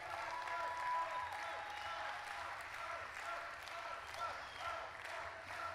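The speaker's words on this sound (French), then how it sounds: "Pascal Lagesse, que je vous propose aussi d'applaudir." A large crowd at the closing ceremony of the Fêtes de Dax applauds, a soft, distant, continuous patter of clapping that holds steady throughout.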